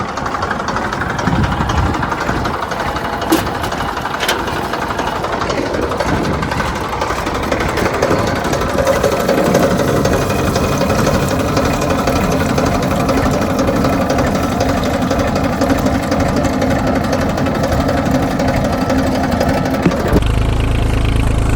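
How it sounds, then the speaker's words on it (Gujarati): A tractor engine plows a field, its steady mid-pitched rumble running loud and close with some knocking texture throughout, occasional clanks on top and no speech. "તો જો ફાઇનલી આપણે ખેડવાનું ચાલુ કરી દીધું"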